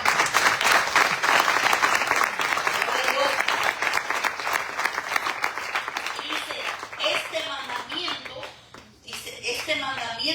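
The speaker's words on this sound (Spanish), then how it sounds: "Denle un aplauso al Señor." A church congregation breaks into loud, sustained applause during a sermon, dense clapping that thins and fades toward the end, with a few voices calling out and a voice beneath it.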